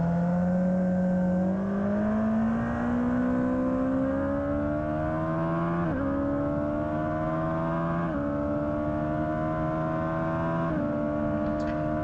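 A Suzuki Hayabusa motorcycle accelerates hard on a race track, its engine note climbing steadily through the gears, with brief dips at each shift. It is close and continuous, with no talk.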